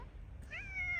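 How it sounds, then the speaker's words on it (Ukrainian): A single cat meow, drawn out and rising slightly, close by over a low background hum. "Це наш кіт Мурчик"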